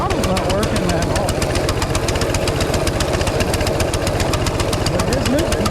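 A small mini bike engine with a stuck throttle runs continuously at a fast, steady, rattling pace, loud and close, with a voice briefly heard over it.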